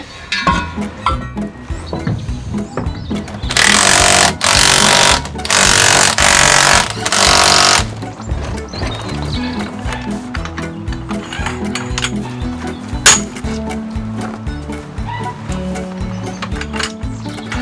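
Socket on a tool spinning and churning the wheel nuts of a VW T25 van, loud close rapid rattling and clattering throughout, with a few heavier broadband bursts early on.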